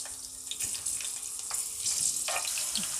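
Green chilies fry in hot oil for a crab curry, a fairly quiet, watery sizzle broken by scattered crackling pops close by.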